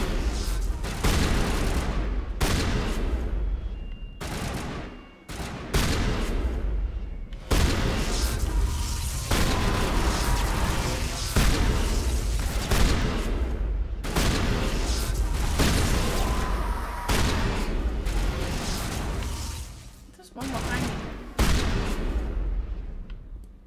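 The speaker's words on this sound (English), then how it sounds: "Shotgun to the face." Repeated shotgun blasts during combat on Feros or Virmire in Mass Effect, a dense run of loud booming shots with short gaps, mixed with battle noise and occasional talk underneath.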